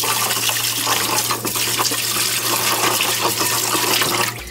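Wild chives are rinsed under a running tap, giving a steady, close splash of flowing water that fills the sink and then stops abruptly at the end.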